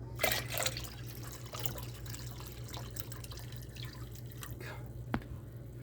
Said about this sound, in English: Okay, so we poured our tea in.